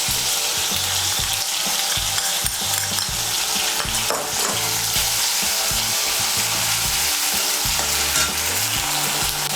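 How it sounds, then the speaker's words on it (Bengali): Chopped tomato frying with cumin, ginger and green chili paste, giving a loud continuous sizzle while a utensil stirs and scrapes the pan in a repeating rhythm, close up and with no voices. "টমেটো কুচিটা দিয়ে একটু নাড়াচাড়া করে নিয়ে এর মধ্যে আমি দিয়ে দেব জিরে বাটা, আদা বাটা আর কাঁচা লঙ্কা বাটা।"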